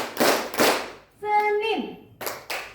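A group of children clapping in unison during a classroom clap game: a pair of loud, close group claps, a teacher's voice calling out between them, then another burst of clapping at the end.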